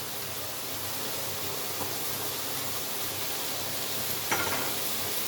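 Cumin, coriander, turmeric and fenugreek sizzle steadily in hot oil, a dense even hiss at close range with one brief clink near the end and no talking.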